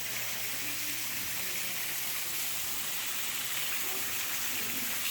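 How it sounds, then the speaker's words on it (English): Crystal Falls pours through the rock of a cave into a pool, a soft, steady watery rush that stays even and continuous from start to finish. "there's the waterfall coming through the rock. Going down into the pool."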